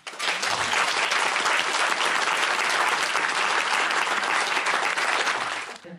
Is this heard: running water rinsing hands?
no